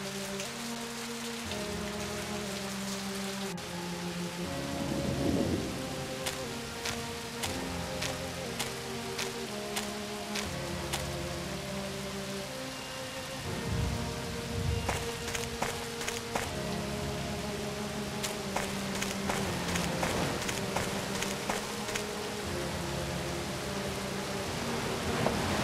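Steady rain falls on surfaces during a storm, with low thunder rumbling at intervals, a constant wash of drops with no voices.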